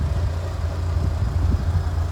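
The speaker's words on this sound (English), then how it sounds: "2-litre engine's ticking over nicely" 2000 Mitsubishi Lancer Evo Tommi Makinen edition, its 2-litre engine idling: a steady low rumble, close and even, heard on its own with no talking.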